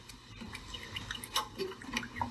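Water drips from the drained service port of a home water heater after its hose is removed, a few faint, scattered drops over a low background hiss.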